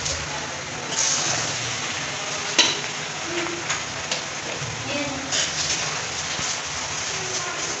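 Chicken macaroni being stirred in a hot pan, with a steady sizzling, frying hiss and scraping stirs running throughout and a few soft clinks.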